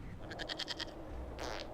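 A goat bleats in the video game Dragon Age Inquisition: one short, quavering, pulsed bleat, faint and brief, then a soft breathy noise.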